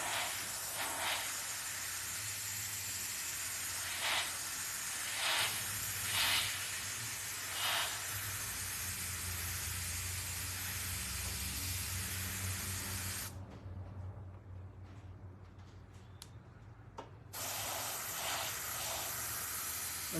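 Steady broadband hiss of a freehand airbrush spraying paint, running continuously with brief louder bursts, then cutting out for a few seconds before resuming; no voices.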